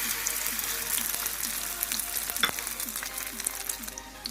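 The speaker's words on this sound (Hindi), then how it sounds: "ये देखें, ऑयल गर्म हो चुका है, अब ये फ्राई करते हैं।" An egg-dipped shami burger patty frying in hot oil, a lively close crackling sizzle with bubbling pops and a few scrapes, no talk over it.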